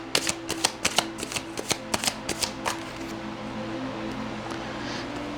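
Tarot cards from an Emotional Intelligence deck are shuffled in a quick series of sharp riffling flicks and taps, close and fairly quiet, then the shuffling stops and a soft room hum remains.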